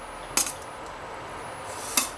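Boiled cauliflower pieces being stirred into a tomato curry in a pan, with two sharp metallic clinks of a ladle against the pan about a second and a half apart over a faint steady background, no talking.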